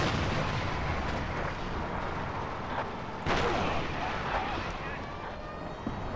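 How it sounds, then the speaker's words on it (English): Anti-aircraft gunfire in a World War II video game, a dense continuous barrage of rapid booming bursts, fairly distant and steady throughout with a few sharper cracks. "Somebody was shooting us with AA."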